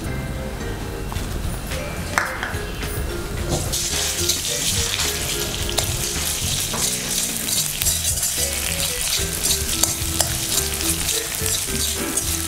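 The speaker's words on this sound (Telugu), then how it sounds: "ఆయిల్ హీట్ అవ్వగానే దాంట్లోకి కొంచెం జింజర్ గార్లిక్ పేస్ట్ వచ్చేసి 1 టీ స్పూన్" Ginger garlic paste, one teaspoon, frying in hot oil in a pan, giving a steady, loud crackling sizzle throughout with a running-water-like hiss and no talk.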